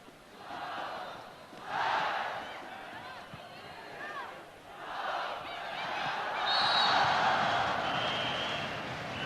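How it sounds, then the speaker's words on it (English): An arena crowd at a 1994 World Grand Prix women's volleyball final between China and Japan cheers and calls out players' names in rising, rhythmic waves, a steady loud roar of many voices throughout. "As the night wears on, the crowd's getting more and more into this game"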